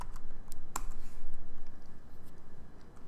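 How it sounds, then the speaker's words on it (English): Someone types a short command on a computer keyboard, tapping keys at close range. The quiet, rapid clicks include one sharper key strike near the middle. "I'm just going to type git clone"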